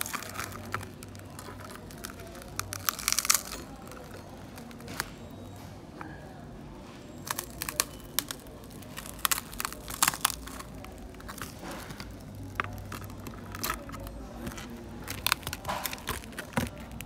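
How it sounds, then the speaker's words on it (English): Cracked digitizer glass on an iPad mini being peeled away after heating, giving irregular crackling, crunching snaps in scattered bursts over a steady low background hum, close by. "Just heat it up and just peel it out like that."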